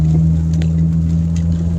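A Honda Civic engine pulling uphill with a transmission that shifts late at high rpm, heard as a steady, droning hum from inside the car, constant and unbroken.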